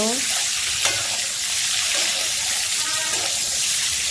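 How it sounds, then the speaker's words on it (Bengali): Boiled eggs frying in oil with turmeric and salt give a steady, close broadband sizzle that runs unbroken, with faint scraping from stirring and no talk. "হলুদ লবণ দিয়ে তেলে ভেজে নিব।"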